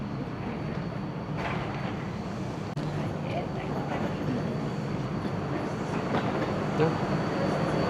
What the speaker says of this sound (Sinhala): ට්‍රේන් එක ආවා අපි යනවා.